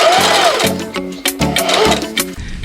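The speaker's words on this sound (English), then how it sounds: "Make basting stitches for the sleeve." A sewing machine runs basting stitches along a sleeve for a Simplicity 8947 garment, close-up, in several quick whirring bursts separated by short pauses, with no talk.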